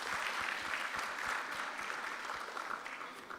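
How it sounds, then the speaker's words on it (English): An audience at a university postgraduate research day gives a round of applause, dense clapping that holds steady and thins slightly toward the end. "Let's give her a round of applause."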